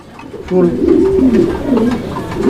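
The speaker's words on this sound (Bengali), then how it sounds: "এখানে আরো এক জোড়া কবুতর আছে আর এটা হচ্ছে আপনার ব্ল্যাক লাহোরি কবুতর" Close, loud cooing from Black Lahori pigeons, a low rolling coo that carries on almost continuously.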